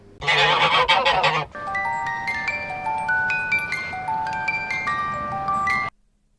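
A goose gives a short burst of loud, close, rapid honks, followed by a tinkling, music-box-like melody that plays on before cutting to near silence.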